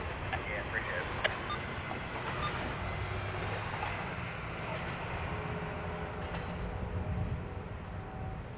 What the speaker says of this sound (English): That was IO44, the northbound intermodal train from Tampa, Florida to Jacksonville, Duval Yard in Florida.